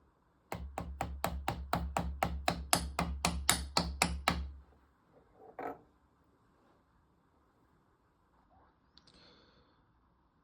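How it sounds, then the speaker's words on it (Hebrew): A rubber mallet taps KTM 250/300 two-stroke crank oil seals into place: about fifteen quick, evenly spaced blows, then a single softer knock and faint clinks in near silence. "אני אקח פטיש גומי"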